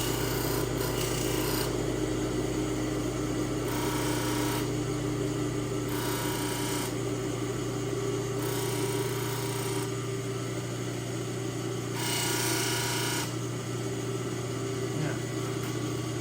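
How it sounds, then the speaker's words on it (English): Finishing grinder working on a medical instrument in an instrumentation workshop, a steady abrasive rasping whir over a constant mechanical hum, with several brief louder passes against the metal. "Finishing grinder."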